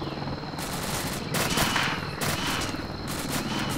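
Bursts of rapid automatic gunfire in a military combat game, loud and dense, with short gaps between the volleys.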